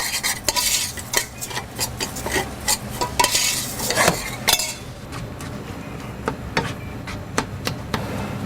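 Rice coated in oil with garlic and cumin is stirred in a warm pan, a spoon scraping and clinking repeatedly against the metal over a soft background sizzle, close and steady throughout.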